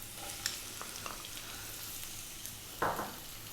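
Garlic, ginger and onion frying in sunflower oil over high heat in a Chinese stir fry, a faint steady sizzle with a few soft clinks and one brief louder burst of spitting oil, no talk.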